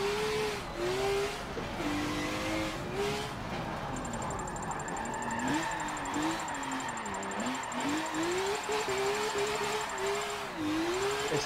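A BMW race car in the Forza 7 video game, driven with a Logitech G920 wheel, drifts with a sustained engine roar whose revs rise and fall repeatedly over tire noise, loud and continuous with no talking.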